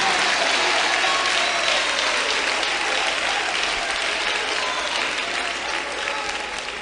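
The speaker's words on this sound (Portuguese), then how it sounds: "batam palmas e glorifiquem a Jesus" A church congregation claps hands continuously, producing a dense, loud, sustained roar of applause with no pause.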